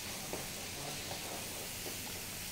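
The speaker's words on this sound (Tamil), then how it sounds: "நம்ம இந்த மஞ்சள் பொடி மிளகா பொடி நல்லா கொஞ்சம் எண்ணெயில் குக் ஆகட்டும்" Turmeric and chili powder cooking in oil for a drumstick curry, a soft continuous sizzle with faint occasional stirring scrapes, low in level and alone.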